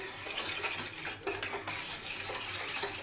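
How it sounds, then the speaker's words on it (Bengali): Mustard oil being stirred into ingredients for steamed hilsa, with close, steady clinking and scraping of a utensil against a bowl that continues throughout. "এখানে কিছুটা সর্ষের তেল দিয়ে এটাকে আমি মিশিয়ে দিচ্ছি"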